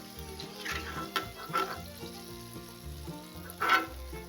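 Wheat-flour kapnya coated with poppy seeds frying in hot oil, a close, soft continuous sizzle with a few sharper bubbling bursts and light utensil clinks.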